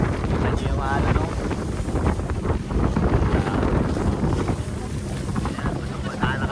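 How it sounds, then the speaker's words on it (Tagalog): Big sea waves and strong wind on a boat trip in Iloilo, a loud continuous roar of water and gusts buffeting the microphone, with voices partly buried in the noise. "grabing alon, no? Narakas ng alon."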